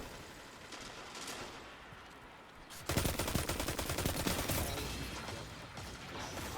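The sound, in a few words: auto rifle gunfire in the video game Destiny (Iron Banner)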